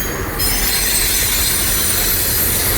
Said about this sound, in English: big, long, beautiful train